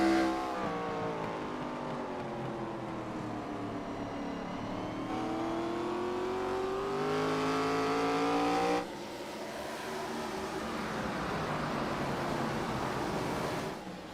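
ARCA Series stock cars accelerate on track, their engines rising in a loud, layered roar that climbs in pitch, drops sharply at a gear change or pass, then builds again, heard alone without talk.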